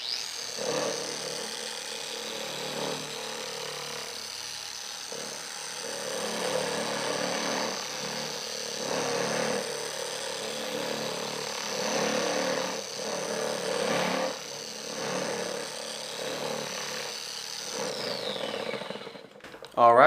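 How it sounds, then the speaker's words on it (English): A polisher spins its pad inside a Lake Country System 4000 pad washer, a steady whirring motor with rhythmic swells, running near and continuous before cutting off at the end. "turn the speed up, and then you're gonna wanna lift the polisher up just above it, and then spin it"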